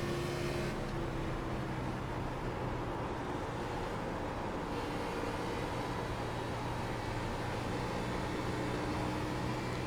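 Race car engine in iRacing, an Xfinity car on current tires lapping Homestead, a steady loud drone with tonal engine whine held constant at high speed throughout, no voices.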